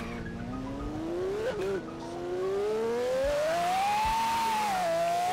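A Pagani Zonda spins its wheels in Forza Horizon 3, the tires squealing in a long, rising, wavering whine over a roaring engine. Loud and continuous, with one brief dip early on.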